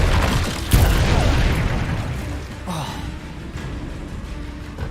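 Confringo spell in Hogwarts Legacy bursting with a sudden booming explosion early on, followed by a softer second pop and a rumbling fiery tail under steady game ambience.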